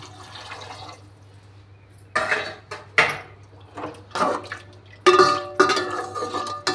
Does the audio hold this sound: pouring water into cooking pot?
yes